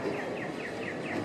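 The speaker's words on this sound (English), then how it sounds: "You hear that chirping noise, that's the signal to go." Repeated descending electronic chirps from a pedestrian crossing signal on an Ecuador street, about five evenly spaced sweeps over steady traffic and city noise.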